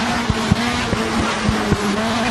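A rally car in the V-Rally 4 video game on Switch drives with a loud, steady engine drone that has a few brief bumps. There is no talking.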